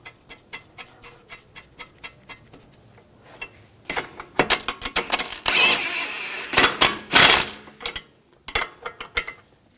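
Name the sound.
ratchet tightening nut on Audi A4 control arm bolt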